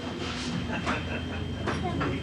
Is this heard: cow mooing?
no